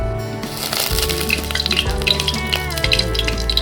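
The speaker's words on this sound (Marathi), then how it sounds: "जिरं तडतडलं" Cumin seeds crackle and pop sharply in hot ghee, a continuous sizzle with scattered bright snaps, close and fairly loud.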